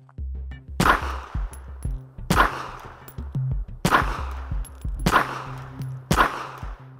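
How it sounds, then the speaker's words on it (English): Five sharp, loud gunshots from an LC380 pistol, fired one at a time at roughly even intervals, each crack followed by a brief ringing decay. "So Benny, let's shoot this LC380, show how controllable that recoil is."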